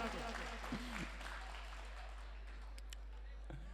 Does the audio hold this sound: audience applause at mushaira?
yes